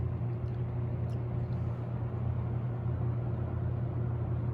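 Two electric fans with identical motors spinning down side by side, a steady low whirring hum with a faint tonal drone that holds evenly throughout, close and moderately loud with no talking.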